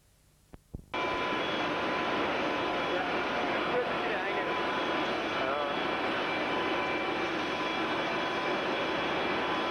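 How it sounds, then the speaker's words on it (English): A brand new Airbus A320 sitting at Jan Smuts Airport after its delivery flight, heard from the flight deck as a steady loud engine and air-system roar that starts abruptly after a couple of brief clicks. "from the flight deck of this brand new Airbus A320, just arrived at Jan Smuts Airport on its delivery flight"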